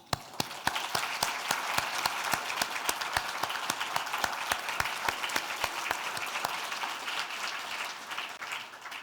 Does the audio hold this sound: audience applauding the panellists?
yes